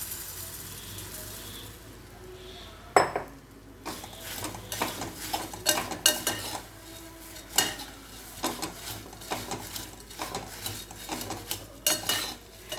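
Spoon or spatula clinks and scrapes against a pan as puffed rice is stirred into a spice mix with the heat switched off, a steady run of irregular metallic scrapes and taps heard close up, with no talk.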